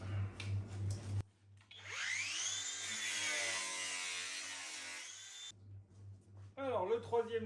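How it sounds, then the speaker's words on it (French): A Parkside drill fitted with a reciprocating saw attachment spins up and runs loudly for several seconds with a buzzing, rising whine, with speech before and after. "le troisième outil qui est donc la scie sabre entre guillemets, puisque c'est en fait une perceuse de chez Parkside"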